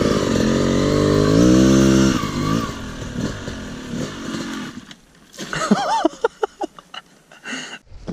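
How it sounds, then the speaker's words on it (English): A Kawasaki KLX 110 pit bike engine revs loud and close as it climbs a vertical wall, a strained steady roar that drops away into scattered short blips and pops as the throttle cuts in and out. "I'm going up that wall on this bike."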